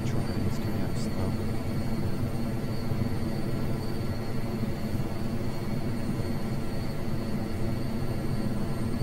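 Steady helicopter rotor and turbine drone from a large helicopter in Microsoft Flight Simulator 2024, constant and loud throughout with no breaks.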